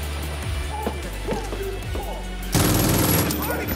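Gunfire from guns in the co-op shooter Far Cry New Dawn on its hardest difficulty, quiet rattling shots at first, then a loud dense burst of rapid fire taking over for the final second or so, with a voice faintly beneath.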